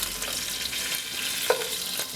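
Lamb shanks brown in a hot pan with a steady, close sizzle and frying crackle, one brief sharper stir or clink partway through and no talking.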